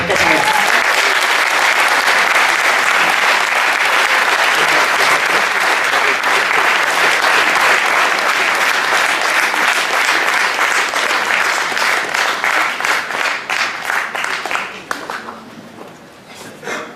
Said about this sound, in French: Faites un tonnerre d'applaudissements pour Ramel.